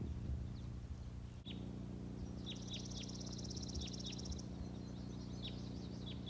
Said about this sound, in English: So all those bird songs means that it is spring, because in the springtime is when the birds do a whole lot of singing